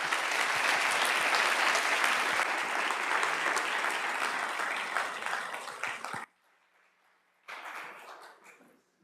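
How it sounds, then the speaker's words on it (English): Loud audience applause for conference panelists at a workforce event, steady dense clapping for about six seconds, then a sudden break and a shorter, quieter burst of clapping. "One more round of applause,"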